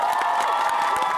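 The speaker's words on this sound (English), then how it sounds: "a big round of applause" A brief burst of crowd cheering and clapping from a convention audience at Närcon summer 2017, with high whoops and shouts over a steady roar.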